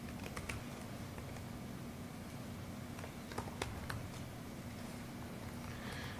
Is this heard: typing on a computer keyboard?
yes